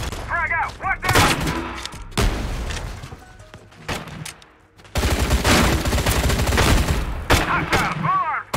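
Gunfire in the video game Crowz rattles loudly in dense bursts and heavy volleys, with booming impacts, under shouted voice lines and chatter throughout.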